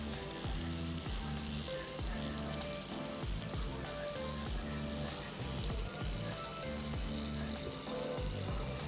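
Snap peas and pork belly stir-frying in a pan give a steady, even sizzle throughout, moderately quiet, with no talking.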